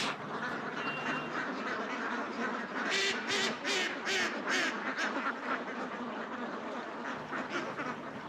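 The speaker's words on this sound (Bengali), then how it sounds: "বিভিন্ন ধরনের এরকম হাঁসের খামার করে তুলছে দেখুন প্রায় এক হাজার থেকে দেড় হাজার হাঁস" A flock of farm ducks near a river quacks in a rapid burst of repeated calls, moderately near, over a constant wash of outdoor background noise, with no talking.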